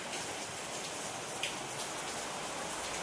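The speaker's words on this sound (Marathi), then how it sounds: "किती पाऊस चाललाय" Steady rain pattering down, an even hiss of drops on surfaces that continues without a break. No voices.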